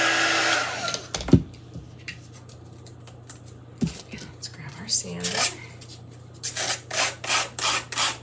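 Hand sanding the edges of a sealed wooden decorative egg: soft, close scraping and rubbing, sparse at first, then a steady run of rhythmic back-and-forth strokes.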